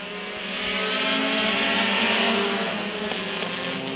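Four-cylinder race cars pull away at the start of a short-track feature, a dense roar of engines building and holding, heard from the stands at fair distance with no talking.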